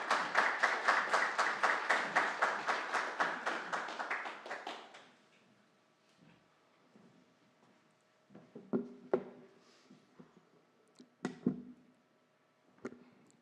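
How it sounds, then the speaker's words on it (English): A church congregation claps to welcome the pastor to a Sunday service, a dense burst of applause for about five seconds that fades quickly, followed by quiet with a few scattered taps and knocks. "Let's all give him a big, warm round of applause and welcome"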